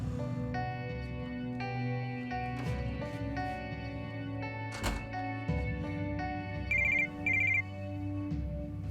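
A telephone rings in a French-dubbed drama series: a loud electronic ringtone repeats its tonal pattern several times in a row, with brighter high beeps near the end and no voices.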